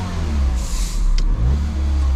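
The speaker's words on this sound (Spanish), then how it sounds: "No hay códigos y acelera el carro." A Mini Cooper engine revving steadily up close, the sound rough and uneven as it misfires under acceleration, with a brief dip midway and no talk over it.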